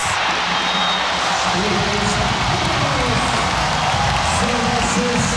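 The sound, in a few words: crowd clapping for a volleyball kill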